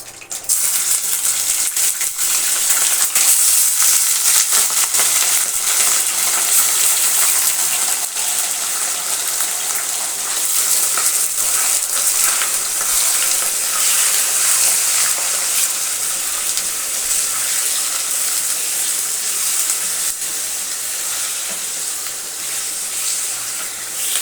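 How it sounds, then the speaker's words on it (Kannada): Half a kilo of chicken fries in a pan with bay leaves, cinnamon and cloves, giving a loud, continuous hiss and sizzle that holds steady throughout, with no voices. "ಈಗ ಚಿಕನ್ ಒಗ್ಗರಣೆ ಮಾಡೋದು."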